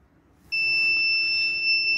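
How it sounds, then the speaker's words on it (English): Buzzer of a smart helmet ignition system switches on abruptly and holds a loud, steady high-pitched electronic tone, following a brief quiet stretch. "buzzer is turned on and ignition is turned off."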